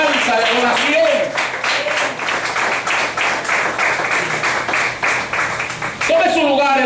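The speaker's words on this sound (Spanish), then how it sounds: "Den un fuerte aplauso a Jesús, hermano" A church congregation applauds loudly in a dense, sustained burst of clapping, with voices speaking briefly at the start and end.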